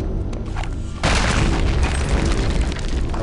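Grenade blast in Return to Castle Wolfenstein: a sudden loud boom bursts in about a second after a quieter stretch, then a dense rumbling roar and debris hiss carry on to the end.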